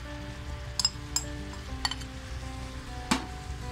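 Grated coconut is stirred into jaggery syrup in a pan, a quiet low sizzle with a few sharp clinks and scrapes of the utensil against the pan.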